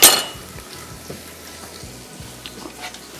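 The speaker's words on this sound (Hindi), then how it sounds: "सबसे पहले इसको हल्का सा करेंगे फ्राई।" Ginger and garlic fry lightly in a pan, starting with a sharp burst of sizzle and then settling into a quieter crackle with faint utensil clicks.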